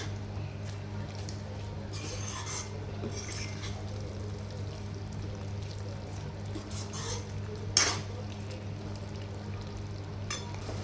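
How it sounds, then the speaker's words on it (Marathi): Paneer frying in masala in a pan, a low steady sizzle with occasional stirring scrapes and a single sharp clink of a utensil against the pan partway through. "थोड्या वेळ पनीर मसाल्यामध्ये फ्राय करून झाल्यानंतर आपण त्यामध्ये मटर टाकूयात."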